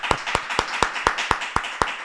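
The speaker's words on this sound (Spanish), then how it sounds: "te voy a dar un aplauso." Slow, evenly spaced claps, about eight sharp hits in a steady rhythm, come from a small podcast audience; they sound close and sparse rather than a full ovation.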